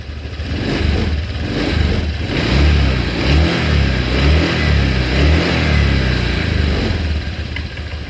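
A Honda Vario 125 scooter engine with a fault that makes it hesitate and sputter when first opened up runs at raised RPM near 1600. It makes a loud, close, steady drone with gentle rhythmic swells and no speech.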